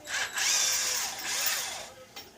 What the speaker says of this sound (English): I'm going to drill a 1/2-inch hole